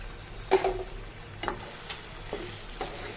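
Chicken pieces sautéed in a pan with spices, raisins, dried plums and tomato sauce, giving a soft low sizzle broken by a few scraping stirs of a spoon against the pan, close and fairly quiet.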